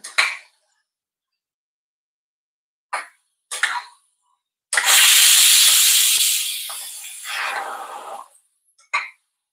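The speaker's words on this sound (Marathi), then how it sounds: "2 शिट्ट्या झाल्या, कारण माझा कुकर आहे छोटा, त्याच्यामुळे शिट्ट्या लवकर होतात." Short bursts of steam hiss from a small pressure cooker cooking black peas, then a loud sustained whoosh of release that fades, followed by another quick puff.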